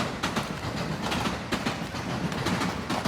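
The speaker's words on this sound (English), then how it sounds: "That is a JR train." A JR line train rumbles past near Suma Beach, a steady rolling roar with rhythmic clickety-clack of wheels over rail joints, fairly close and without voices.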